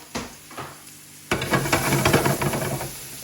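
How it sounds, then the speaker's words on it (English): Food sizzles loudly in a hot pan while making tomato soup, starting with a quieter hiss and then bursting into steady, crackling frying close by. "If you're not hearing the sizzling, you're not doing it right."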